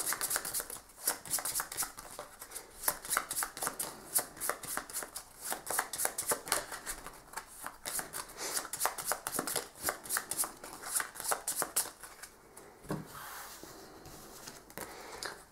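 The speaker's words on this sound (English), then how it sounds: "shuffle up her deck" Rapid, crisp riffling of playing cards repeats in quick bursts for several seconds, close and clear, followed by a few softer card taps.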